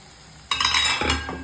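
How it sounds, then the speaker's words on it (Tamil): Tomato and chili powder sautéing in a pan for poha tomato bath, a sudden close burst of sizzling with spatula clinks and scraping that settles after about a second. "மிளகாத்தூளோட நல்லா வதங்கி வந்துடுச்சு"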